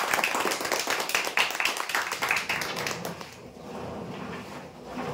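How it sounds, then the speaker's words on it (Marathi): A crowd at a lucky draw event claps for a prize winner, with a burst of sharp, close handclaps for about three seconds before it fades into quieter room noise. "जोरदार टाळ्या होण्यासाठी।"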